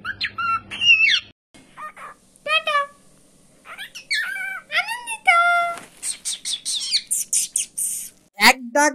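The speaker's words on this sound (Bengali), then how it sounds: "বাচ্চা পাখি" A young cockatiel gives repeated high chirps and squawky calls in bursts throughout, close and fairly loud, with a person speaking softly between the calls.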